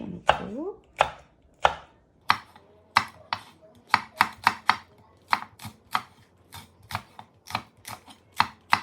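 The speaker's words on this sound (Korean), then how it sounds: "청홍고추를 버섯을 썰어놓고" A knife chops through red and green chili peppers and mushrooms on a cutting board, sharp crisp strikes coming quickly in an uneven rhythm, close and alone with no voices.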